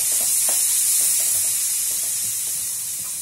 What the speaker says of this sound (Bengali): আমি আরও কিছুক্ষণ পেঁয়াজটাকে ভালোভাবে ফ্রাই করে নেব।